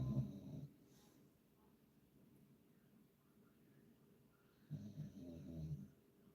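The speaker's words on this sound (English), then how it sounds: "hopefully the dog will drown it out with his snoring" A dog snores softly nearby, two slow rumbling breaths at the start and end separated by a quiet lull, faint and close in a calm indoor room.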